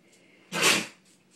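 A dog gives a single short, breathy sneeze, a sudden close burst of air lasting about half a second against a quiet room.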